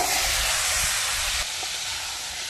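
Potatoes, taro and okra hit hot oil in a pan, a loud, bright sizzling hiss that fills the first second and a half, then settles into a softer, steady frying crackle.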